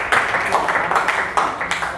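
A classroom audience claps for the language theory group, a loud, dense patter of many hands with a few stronger bursts, continuous throughout.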